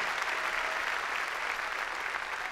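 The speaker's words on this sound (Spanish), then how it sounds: "las palmas fuertes a ese Dios grande y poderoso" A church congregation applauds loudly and steadily, a dense wash of clapping filling the room throughout with no voices standing out.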